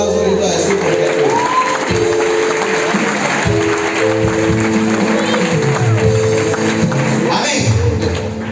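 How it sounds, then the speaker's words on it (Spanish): Church congregation applauding during a sermon, a sustained wash of clapping and crowd noise under a steady musical or organ-like hum, fairly loud throughout. "Denle un aplauso ahorita"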